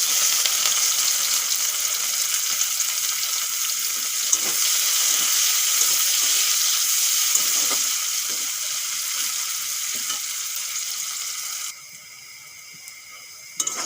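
Chopped onion dropped into hot oil with cumin seeds and whole garam masala, a loud, close, continuous frying hiss with small crackles that drops abruptly to a quieter sizzle near the end.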